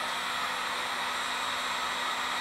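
A heat tool blows steady hot air onto a backpacking tent stake, a constant loud whooshing hiss at close range with no variation and no talking.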